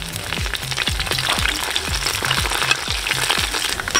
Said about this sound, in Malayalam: കുറച്ച് തേങ്ങാക്കൊത്ത് വറുത്തെടുക്കാൻ വേണ്ടി ഇതിൻ്റെ അകത്തേക്ക് ഇടുവാണ്